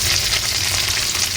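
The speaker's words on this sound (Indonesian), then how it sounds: "Niki badhe kula goreng kedua kali." Tomato and chili sambal fries in a pan for a second time, a loud, close, continuous sizzle and crackle with no voices over it.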